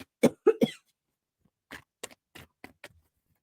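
Three quick, harsh coughs close to the microphone, then a pause and a softer series of short coughs and throat sounds.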